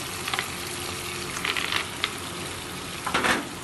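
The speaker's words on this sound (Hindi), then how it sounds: "तो we will add peanuts to it." Peanuts frying in oil for sabudana khichdi, giving a steady crackling sizzle with a few brighter bursts of spattering, close and moderately loud, with no voices.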